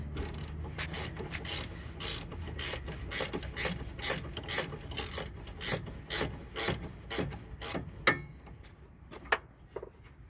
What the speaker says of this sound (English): So that's the anti-roll bar linkage bottom nut, nicely being taken off.